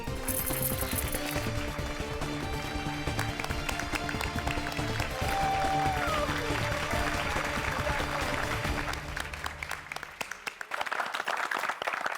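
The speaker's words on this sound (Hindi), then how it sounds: "एक बार जोरदार तालियां हो जाए गोकुलधाम सोसाइटी के लोगों के लिए" A crowd of residents in a housing society applauds under music, with rapid, continuous clapping that is fairly loud and thins out toward the end.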